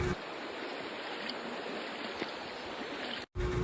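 A clear river in the Philippines flows with a steady, soft rushing burble, moderately quiet and continuous, broken only by a brief dropout near the end.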